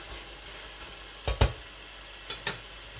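Low background sizzle of peas frying in a pan for pea rice, with a few sharp clatters of a utensil stirring, no talking.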